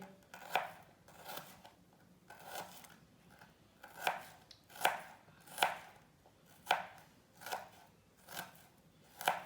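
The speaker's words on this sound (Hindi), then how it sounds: "प्याज को बारीक बारीक काट लेंगे।" Knife repeatedly chopping onion finely on a cutting board, about a dozen crisp close-up chops in steady, slightly irregular bursts, with no voices.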